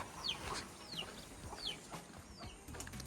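Chickens in a quiet Konkan village give several faint, short clucks spaced about half a second apart, with soft rustling and distant ambient noise and no talk.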